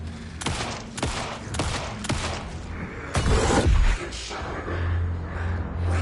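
Rapid gunshots ring out in Alan Wake 2, a burst of four or five sharp, evenly spaced cracks followed by a heavier booming shot and a low rumble, loud and close with no talking over them.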